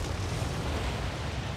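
Low, rumbling crumble of a road stub being bulldozed away in the city-building game SimCity 2013, a steady broadband roar sustained for under two seconds with no talk over it.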